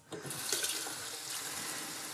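A tap runs steadily into a 5-gallon pot, filling it with sparge water for brewing a hefeweizen, a close, even rushing hiss with no talk.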